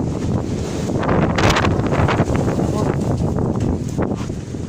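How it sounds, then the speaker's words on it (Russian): A strong windstorm roars and buffets the microphone in a continuous rush, with a louder gust building around the middle before easing back to a steady blow. "ветер такой сильный дует со вчерашнего дня"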